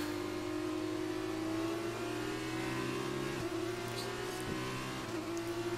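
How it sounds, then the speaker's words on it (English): An F2 race car in F1 2019 drives continuously, its high engine note steady and loud with brief dips where gears shift, and no talk. "Still getting used to how the F2 cars drive at this point."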